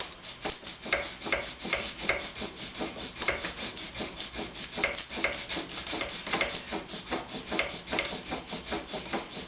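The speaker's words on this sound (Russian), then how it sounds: "А потом можно будет перейти к наждачке более тонкой," Steady rhythmic rubbing of fine 400-grit sandpaper over a wooden jaw harp deck, repeated back-and-forth strokes, close and fairly loud, with no voices.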